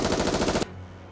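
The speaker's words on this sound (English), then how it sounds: "Amidst the chaos of the maelstrom of gunfire" Rapid automatic gunfire from a machine gun in the Goddess of Victory Nikke video game, a dense loud burst of rattling shots lasting about half a second, then cutting off abruptly to a low hum.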